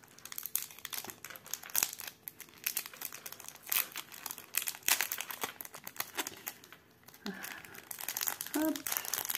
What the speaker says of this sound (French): c'est dans un sachet, alors je vais l'ouvrir